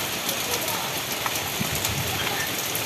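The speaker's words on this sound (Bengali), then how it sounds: "অবশ্যই দেখতে পাচ্ছ বৃষ্টি পড়া স্টার্ট হয়ে গেছে" Rain begins falling outdoors, a steady broadband patter and hiss throughout, fairly close, with faint scattered drops standing out and no clear talking over it.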